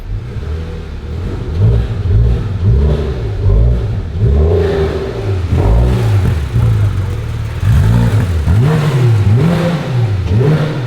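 A Porsche GT3 RS engine with a fault revs repeatedly, rising and falling in pitch in a steady rhythm, loud and close.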